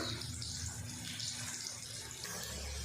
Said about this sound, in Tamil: மீல் மேக்கர் பார்த்திங்கன்னா தண்ணியில் நல்லாவே ஊறிடுச்சு பாருங்கள். இப்போ இதை நம்ம நல்லா பிழிஞ்சு எடுத்துக்கலாம்.